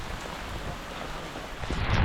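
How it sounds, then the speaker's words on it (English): Heavy rain pours steadily during a walk in the wet season, a dense, close hiss with no talk, swelling slightly louder toward the end. "Gee, this rain is so bad."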